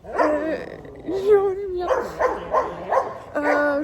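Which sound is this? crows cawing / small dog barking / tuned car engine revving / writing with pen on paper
small dog barking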